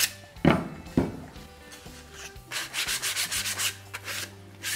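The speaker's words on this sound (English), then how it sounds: "our three bits of timber are cut, and as usual, I like to give them all a little bit of a sand" Close hand sanding of timber: a couple of sharp knocks, then a run of steady rhythmic rasping strokes.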